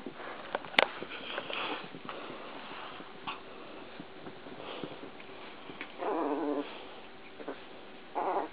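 Small dog scuffling and snuffling in play, with soft whimpers, sniffs and a sharp yip, close by and moderately loud.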